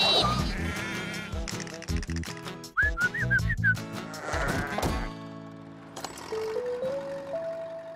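Cartoon sheep bleat during a round-up, and whistled calls and playful musical tones mix in over a busy animated soundtrack.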